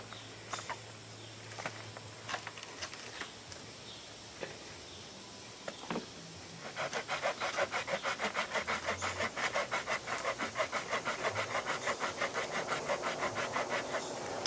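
A small hand saw, sprayed with lubricant, cutting through red oak outdoors: a few sparse knocks, then a steady run of quick, evenly spaced rasping strokes, close and fairly loud.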